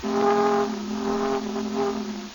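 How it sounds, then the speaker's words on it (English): A freight train's steam whistle, used as a radio sound effect, sounds one sustained, loud, close blast with a slight wavering pitch, lasting the whole moment with no voices over it. "There's a freight train coming in."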